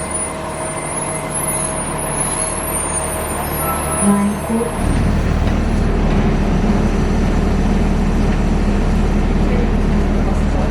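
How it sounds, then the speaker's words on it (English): A small blue city bus in a tight Santa Barbara terminal sits with a high whine overhead, then its engine rumbles up into a loud, steady drone after a few seconds, with a faint hiss of air brakes. "Now we get a blue baby bus."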